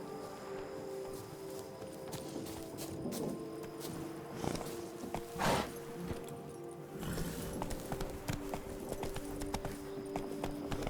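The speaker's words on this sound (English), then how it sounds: "Run, Roach" Horse hooves clip-clop steadily up close as a horse is ridden at pace through a forest in The Witcher 3 video game, with a continuous, rhythmic beat and a few louder thumps midway.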